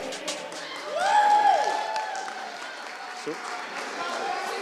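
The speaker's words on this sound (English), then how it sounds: "let's give Dad a big round of applause" Wedding guests give a round of applause and cheer, a diffuse wash of clapping and crowd voices with a whoop rising in the middle, fairly distant and steady.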